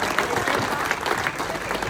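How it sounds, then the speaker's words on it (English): An audience in a lounge applauding a guest, a dense, close burst of clapping from a crowd that carries steadily throughout. "Put your hand together for Archie."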